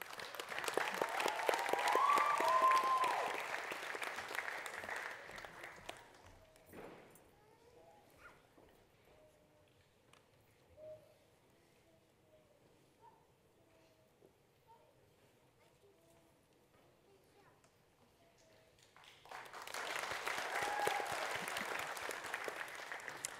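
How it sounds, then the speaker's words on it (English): Audience applause at a religious gathering: a dense burst of clapping for about six seconds, a quiet stretch, then a second sustained round of clapping near the end. "Let's give her another clap as she comes up."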